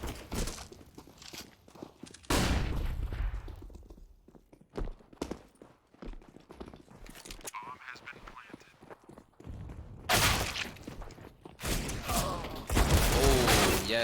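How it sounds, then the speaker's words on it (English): Footsteps and gunfire from the video game Counter-Strike: Global Offensive, including Desert Eagle pistol shots. Sharp cracks and bursts come irregularly between quieter stretches of in-game movement and action. "he pulled out that deagle as soon as he heard those footsteps and was able to get that double kill"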